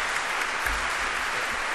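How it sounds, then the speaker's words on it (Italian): Applause from an audience at a cathedral school evening lecture on Galileo, a short, even wash of clapping from a hall full of people, with no voices above it. "Un applauso ci vuole."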